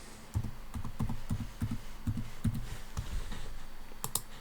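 Login email and password typed on a computer keyboard, a quick run of close, distinct key clicks in an irregular rhythm, alone with no speech.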